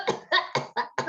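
A voice imitates a lady's cough with five quick, evenly spaced barks in about a second, close and clear.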